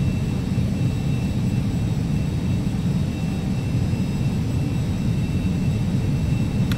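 The jet engine of a Carenado Citation CJ2 in the Prepar3D flight simulator, flying through a snow storm, gives off a steady, loud, unbroken roar and whine with no voices over it.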